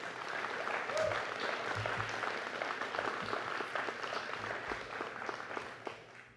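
Audience applause at a graduate school commencement ceremony, a steady dense wash of clapping from a large crowd that carries through the whole stretch and tapers slightly at the end.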